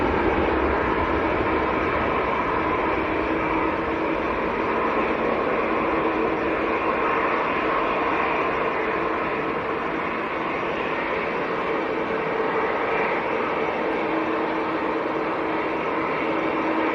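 A Ryanair airliner leaving Manchester airport for Berlin gives off a steady broad jet roar that holds unchanged for about seventeen seconds, heard from a spotting position at some distance with no voices.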